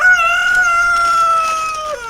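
Chickens in a spring garden giving a loud, sustained, wavering call close by, a single drawn-out vocalization that slides downward at the end, with no talking.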